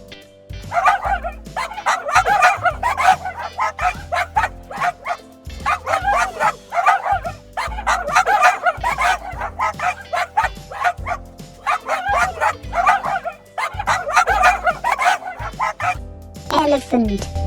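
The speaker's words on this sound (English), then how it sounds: "Dog," Repeated dog barks and yips, loud and close, in a steady series of short bursts throughout, with a few higher whimpering yelps mixed in.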